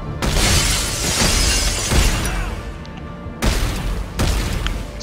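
Sci-fi weapon fire in the video game Dead Space 3, a dense, loud burst of blasts and shattering crackle filling most of the stretch, breaking off briefly and then resuming in two more heavy bursts.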